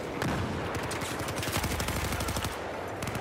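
MG4 light machine gun fire in Battlefield 4, dense rapid rounds close up with overlapping distant gunfire, steady and loud across the whole stretch.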